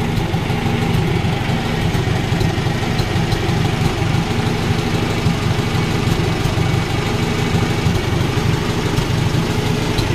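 A 1957 Farmall 450 diesel tractor engine idles steadily nearby, a constant low throbbing rumble with no breaks, running as it burns off its remaining fuel.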